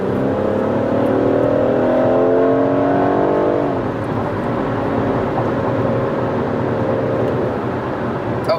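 A BMW in sport mode pulls hard under acceleration, its engine tone climbing steadily before a gear shift drops the pitch and the rising note starts again, loud and close from inside the car with no talk.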